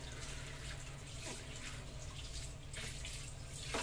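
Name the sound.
washing galunggong fish under running tap water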